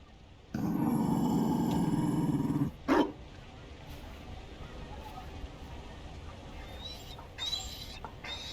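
Mabari war dog from the Dragon Age video game growling low and steadily for about two seconds, fairly loud and close, followed by a brief sharp burst and quieter ambient game sounds.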